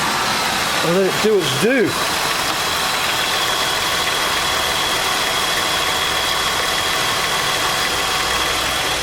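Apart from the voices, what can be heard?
Holden VT 3.8 V6 engine started and idling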